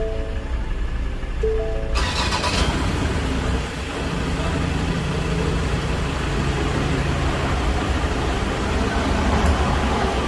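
A 2015 Ford Everest with a 3.2L five-cylinder turbo diesel starts after a brief electronic chime, then settles into a steady, moderately loud idle that continues close by for the rest of the clip.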